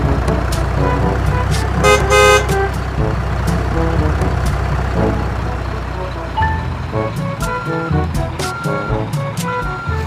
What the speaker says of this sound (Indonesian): ini ada lagi mobil dump truck biru lagi membuang pasir, maksudnya membongkar pasir